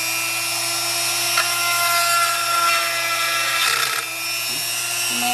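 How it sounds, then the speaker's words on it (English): A steady, high-pitched whine of a power drill boring a hole in the base of a homemade bird bath fountain, running continuously with slight changes in pitch as it bites. "now you're gonna drill a hole in the base for the electrical out of the pump."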